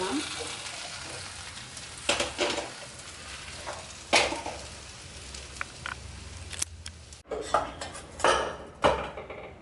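Okra sautés in a pan for Chettinad-style tamarind curry, with a steady low sizzle broken by sharp scraping and clattering strokes of stirring against the pan.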